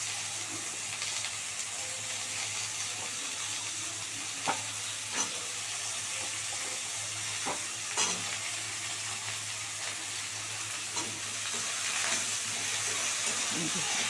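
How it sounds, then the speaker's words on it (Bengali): Okra sizzles steadily in a hot pan, with a gentle hiss throughout and a few sharp scraping taps from stirring. "ভালো করে ভাজা ভাজা করে নিই"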